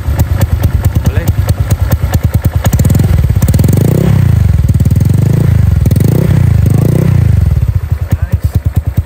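A close, older Honda Vario LED scooter engine idles with a smooth putter, then revs up several times in quick rising and falling blips before dropping back to idle.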